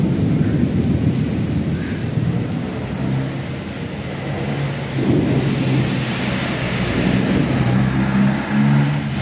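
Heavy rain pours steadily over Santa Cruz among buildings, a dense, loud, continuous roar with low rumbling swells throughout and no talking.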